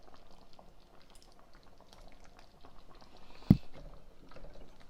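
Oxtail soup with pigeon peas bubbles softly in a pot, a faint low simmering patter with one brief clink partway through, close and quiet.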